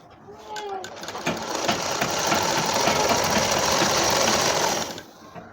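A sewing machine stitches a long seam down hijab scarf fabric: the motor spins up and runs as a loud, steady, rapid chatter for several seconds, then stops abruptly near the end.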